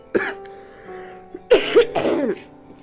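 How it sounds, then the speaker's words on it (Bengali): A few harsh coughs and throat-clearing sounds from grinding lots of hot chilies, close and loud, in short bursts with brief quiet gaps between. "কি পরিমাণে কাশি হয়েছে বুঝতে পারছেন"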